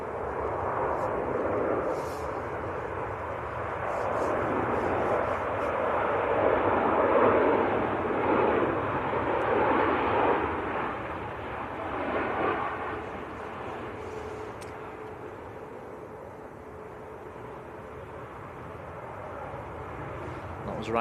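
A Ryanair airliner from Cork, Ireland rumbles at Manchester Airport, a broad roar that swells and then fades over about twenty seconds, with people talking over it.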